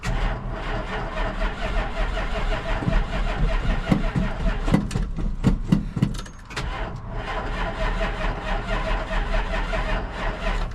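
A car engine with a nearly dead battery cranks repeatedly with a loud whirring starter, briefly catches and sputters, then goes back to steady cranking.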